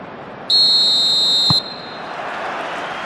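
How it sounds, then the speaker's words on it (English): Referee's whistle in the PES 21 football video game: one loud, steady, shrill blast lasting about a second, followed by low crowd ambience. "There's the whistle."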